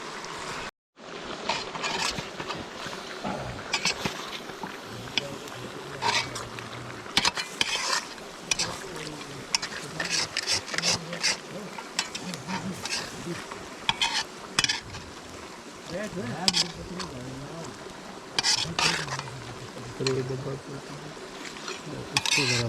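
A spoon stirs coriander powder, cumin powder, black pepper and cardamom into white chicken karahi in a pan. Steady scraping and frequent metallic clinks run over a soft sizzle for about twenty seconds, close up with no talking.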